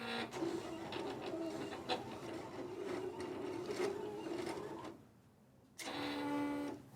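A Silhouette Cameo cutting machine slices vinyl pieces, making a whirring, buzzing motor with rapid mechanical clicks and carriage movements. It pauses briefly into near silence, then starts up again, close and moderately quiet.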